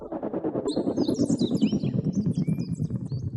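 Bright bird chirps and tweets flutter over a full, steady musical backing from the stems of a song, the calls quick and scattered across the track.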